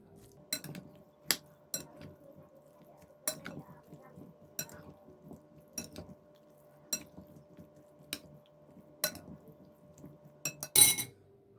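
A spoon stirs cucumber salad dressed with garlic and soybean oil in a bowl, giving about a dozen quiet, irregular clinks against the dish over a soft background.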